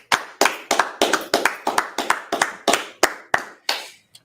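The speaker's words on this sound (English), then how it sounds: "All right, let's clap it up." A class claps hands in about a dozen loud, evenly spaced sharp claps, close and in unison, with no talking.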